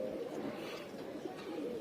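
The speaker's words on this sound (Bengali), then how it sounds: "এই যে গুগু পাখির বাচ্চাগুলো" Young dove chicks give soft, continuous low cooing and murmuring, faint and close, with no other sounds over it.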